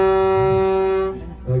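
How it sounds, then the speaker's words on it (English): A car horn held in a long, loud steady honk at an outdoor celebration-of-life gathering, then fading out with a brief low blare near the end. "I'd like to thank Billy for honking."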